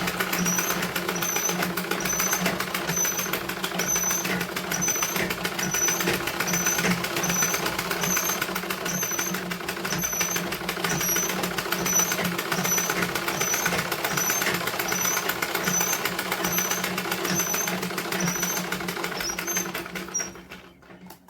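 An electric sewing machine runs continuously, stitching blouse fabric with a steady mechanical whir and regular ticking of the needle, fairly close and unbroken for about twenty seconds before stopping.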